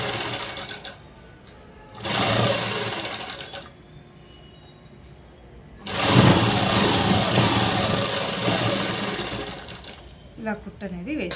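A sewing machine stitching a dress seam in two bursts, a steady close mechanical whir that starts and stops, with a voice talking in the quiet gaps between runs.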